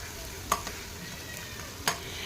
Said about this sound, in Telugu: కొద్దిసేపు ఫ్రై చేసేసుకోవాలి.